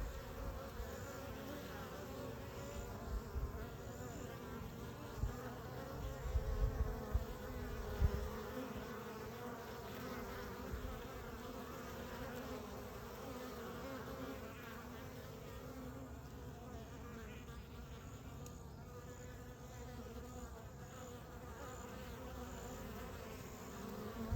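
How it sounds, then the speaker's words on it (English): A steady, low, even hum of many calm honeybees buzzing together, continuous throughout. "Those are happy, calm bees."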